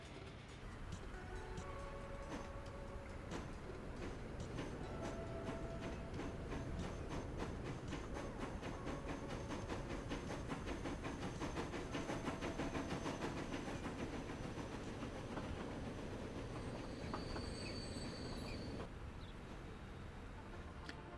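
A train in the game Transport Fever 2 runs along its rails with a continuous rolling rumble, a rhythmic clickety-clack and a hiss, steady and fairly loud throughout.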